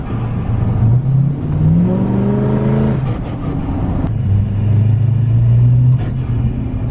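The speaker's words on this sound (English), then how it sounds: "I want to show you guys really quick what the intake sounds like." Duramax L5P diesel pickup fitted with a Wehrli intake piping kit, revving and accelerating up close outdoors at night, a steady loud engine rumble with rising and falling pitch sweeps and a deep throaty intake whir.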